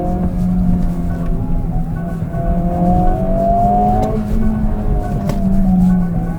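Honda Civic Type-R FL5, a front-wheel-drive hot hatch, driving with a continuous close engine drone and rising and falling revs as it accelerates through corners, no talk.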